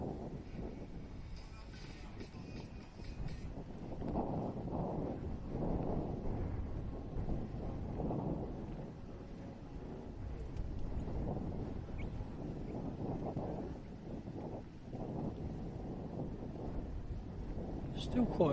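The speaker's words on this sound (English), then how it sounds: "Still quite breezy out here" Breezy outdoor wind buffets and rumbles steadily around a microphone at a motorsport event, with people talking over it throughout.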